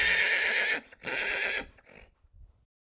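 A horse neighs loudly and close up, a long bright whinny broken into two bursts, then it trails off into a few soft snorts before silence.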